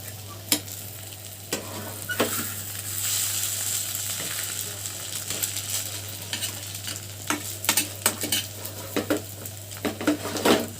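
A potato omelette sizzles in a pan just after being flipped. Utensils scrape and clatter against the pan in scattered bursts over a continuous frying hiss.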